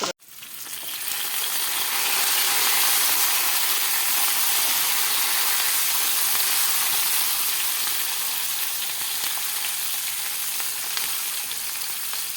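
Peppers frying in a covered pan, a loud, steady broadband sizzle that swells after a brief lid clatter and holds evenly throughout, with no talking.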